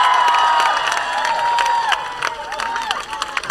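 An indoor audience claps and cheers, with scattered hand claps and lively shouts. A prominent whistling or squealing tone runs over the noise, and the crowd sound swells and tapers unevenly.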